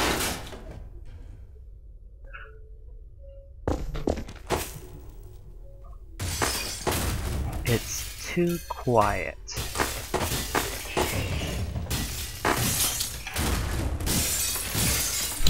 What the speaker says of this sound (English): Judging from the glass breaking, I don't think so.